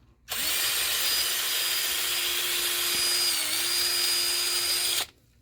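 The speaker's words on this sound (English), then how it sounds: "I'm also using the bit to cut through the wall." A power drill spins up and grinds steadily for about five seconds, its bit cutting through a wall up close, then cuts off sharply.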